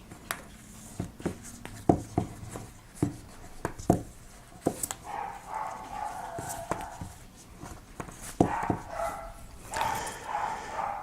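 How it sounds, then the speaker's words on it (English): Several dogs barking outdoors in the background, sharp scattered barks and yips, some close together, over quiet handling noise while paracord is wrapped around a knife handle. "You might hear my dogs barking in the background."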